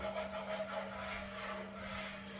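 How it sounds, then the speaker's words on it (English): A whisk works butter into a pan sauce in a home kitchen, giving a faint, continuous scraping and rubbing with a low steady hum beneath. "Whisk it all in."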